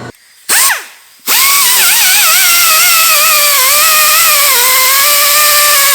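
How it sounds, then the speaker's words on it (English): A power grinder on metal fan mounting brackets for an eBay electric fan on a Koyo radiator, spinning up after a brief start and then holding a loud, sustained whining grind with wavering pitch. "I went ahead and cut the brackets off and ground it down smooth"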